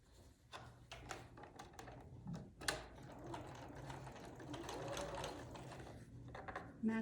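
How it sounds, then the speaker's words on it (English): A sewing machine runs in steady, rapid bursts while stitching quarter-inch seams on a quilt block, its close mechanical whir pausing briefly and then picking up again. "So I'm going to match the seams 1/4 inch down here and then sew"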